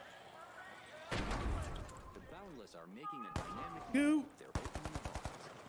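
AK rifle gunfire in a first-person shooter video game, with sharp single shots and then a rapid burst of automatic fire. The shots come under and between lively voices talking over the game.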